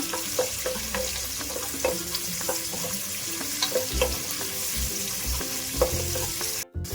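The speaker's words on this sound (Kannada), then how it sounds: "ಸ್ವಲ್ಪ ಕರ್ಬೇವಿನ ಸೊಪ್ಪು, ಒಂದು ಹಚ್ಕೊಂಡಿರೋಂಥ ಒಂದು ಈರುಳ್ಳಿ ಹಾಕ್ಕೊಂಡು ಕಲಿಸ್ಕೊಳ್ಳೋಣ" Curry leaves and chopped onion frying in a pan, a steady close sizzle broken by repeated scraping and clinking stirs, with a brief dropout near the end.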